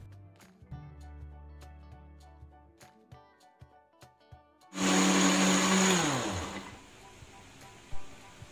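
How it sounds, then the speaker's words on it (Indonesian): A kitchen blender whirs loudly as it purees pandan leaves with water, starting abruptly partway through over soft background music, holding a steady roar for about two seconds, then its pitch sliding down as the motor winds down. "Langkah pertama, kita akan blender 6-7 lembar daun pandan"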